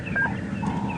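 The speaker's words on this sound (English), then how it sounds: "African fish eagle," A wild African fish eagle calls on a safari morning in Djuma Game Reserve, South Africa, its clear high call ringing out briefly over a steady low outdoor background.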